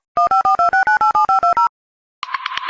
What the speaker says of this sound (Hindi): रुको फोन लगाते हैं।